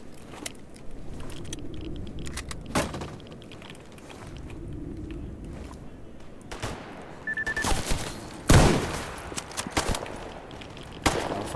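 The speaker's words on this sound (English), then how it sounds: "that guy's got a machine gun." Gunfire in the video game S.T.A.L.K.E.R. GAMMA, with sharp scattered shots and a burst of machine gun fire cracking loudly among mechanical clicks and ambient game noise.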